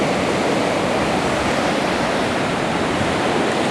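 Ocean surf at Manresa Beach in La Selva Beach, California, roars as a dense, continuous wash of breaking waves, loud and close, with no voices.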